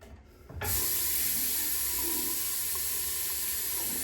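Hot water runs steadily from a bathroom tap, starting abruptly after a brief quiet moment and then pouring as a constant close hiss, with no voices.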